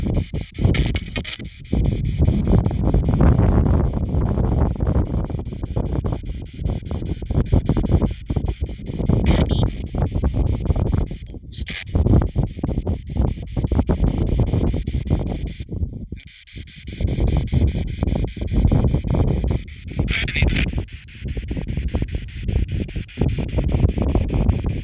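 Gusty wind blows outdoors at an abbey, a steady loud roar buffeting the microphone with a few brief lulls across nearly 25 seconds, no voices.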